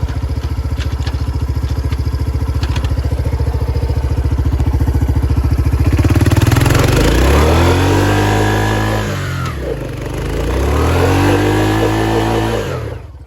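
A 1986 Kawasaki Bayou 300 ATV engine idles with a steady close throb, then revs hard in two rising, falling sweeps, loud and near.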